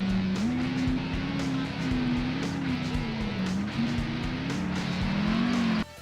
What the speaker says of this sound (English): The engine sounds are actually pretty solid, there's a decent sense of weight and power when you accelerate